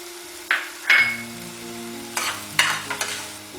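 Spices cook in a little oil in a pan for palak paneer, giving a soft sizzle broken by several sharp scrapes and clinks of a spoon stirring against the metal.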